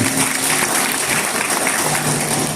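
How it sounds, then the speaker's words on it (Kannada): An audience at a felicitation gathering applauds, a dense, even burst of clapping from many hands that fills the whole moment at steady strength. "ಅವರಿಗೆ ಚಪ್ಪಾಳೆ"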